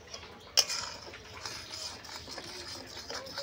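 A spoon stirs cornflour water into boiled milk in a pan: one sharp clink against the metal, then light scraping and soft tapping, close and fairly quiet, with no voices.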